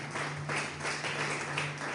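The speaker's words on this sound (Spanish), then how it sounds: "Dale un fuerte aplauso que hizo con todo su corazón" Congregation applause in a church service, a soft, fairly distant patter of clapping over a steady low electrical hum.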